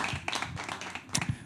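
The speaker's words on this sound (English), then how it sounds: "So big applause for everyone here, for yourself, for doing this." Conference audience applause: a short burst of scattered hand claps from a crowd, moderately loud and uneven, lasting only a moment.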